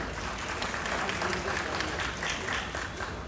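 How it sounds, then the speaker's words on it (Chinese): Steady applause from a crowd at a Chinese Professional Baseball League season-opening promotional event, dense and continuous clapping throughout, moderately loud and fairly close. "好，掌声鼓励一下"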